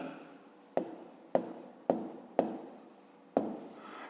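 A pen moves on paper for math homework in five distinct scratchy strokes, each a short sharp burst fading out, close and alone with no talk.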